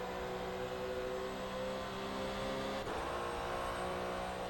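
An F1 car in the rFactor 2 racing game holds a steady, droning engine note that shifts pitch abruptly partway through, as if changing gear, continuous and without talking.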